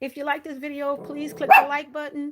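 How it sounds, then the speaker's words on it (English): A pet dog gives short high yips and whimpering barks beneath someone talking, the calls mixing with her voice from start to finish. "That's my dog"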